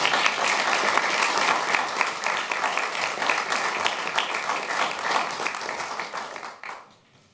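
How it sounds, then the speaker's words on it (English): Warm audience applause for a speaker at a talk in Amsterdam, a full steady patter of many hands that holds loud, then fades out quickly at the end. "so give him a warm applause"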